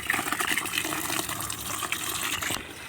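Water poured onto a jasmine plant, a steady broadband splashing gush that runs nearly the whole time, close and fairly loud, then cuts off abruptly near the end.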